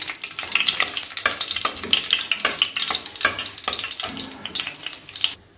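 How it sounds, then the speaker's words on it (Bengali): Dry red chillies and bay leaves hit hot oil and sizzle loudly up close, with crackling bursts and a few rhythmic stirring scrapes. "এর মধ্যে শুকনো লঙ্কা আর তেজপাতা ফোড়ন দিয়ে দিলাম।"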